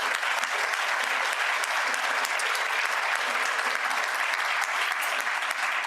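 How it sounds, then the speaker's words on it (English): Steady, dense audience applause at a Rotary club meeting fills the whole stretch, many hands clapping evenly and loudly with a faint crowd murmur underneath. "Let's give them a second round of applause."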